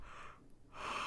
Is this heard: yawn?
yes